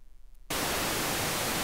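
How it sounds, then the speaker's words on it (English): A steady pink noise hiss from a TubeOhm Alpha-Ray synthesizer starts abruptly after a brief quiet moment and holds at a constant loud level to the end. "pink noise"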